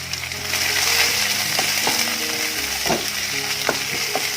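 Sliced onions sautéing in a hot pan for a Punjabi chicken curry, a steady sizzle with occasional scraping stirs of a utensil against the pan, close and fairly quiet.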